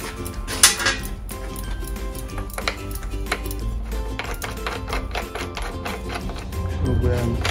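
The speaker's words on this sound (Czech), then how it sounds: "Teď použijeme stahovák na kliku." A crank puller being fitted and screwed onto a bicycle crank during a repair, producing close metallic taps, clinks and scraping clatter at an irregular pace, with a brief louder clink near the start.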